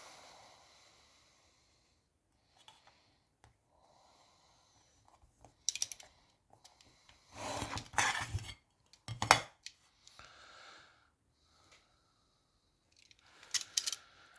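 A blade cuts in short, scattered strokes: quiet, crisp scraping slices that come in separate bursts between long near-silent gaps, with faint breathing and no speech.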